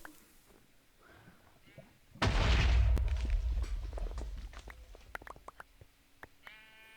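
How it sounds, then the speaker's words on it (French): A block of TNT in Minecraft goes off in one sudden loud blast that rumbles and slowly fades over a few seconds, followed by small clicks and game sounds. "je décide de faire un test avec une TNT. Voir si ça allait exploser"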